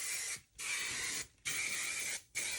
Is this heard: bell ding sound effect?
no